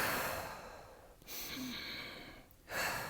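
Slow deep breathing exercise, heard close and fairly quiet as long drawn breaths separated by brief pauses, with no speech.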